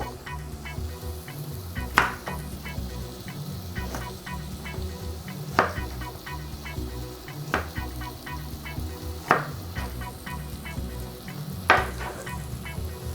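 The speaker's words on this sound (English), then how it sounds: "Now we want to fry the onions until there's just a bit of colour beginning to come through." Onions and smashed garlic fry in a pan over high heat with a steady sizzle, broken by a few sharp clinks of a utensil against the pan about every two seconds. No one speaks.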